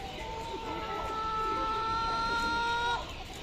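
Clucking and calling from chickens, ducks and geese at a poultry market, a steady busy mix of fowl voices that runs throughout without a break.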